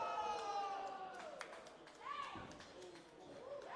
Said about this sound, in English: I want you to hear those thuds.